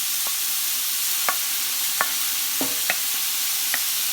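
Garlic and vegetables sizzle in a pot for bolognese while a spoon stirs, a steady close frying hiss broken by occasional light clicks and scrapes against the pot.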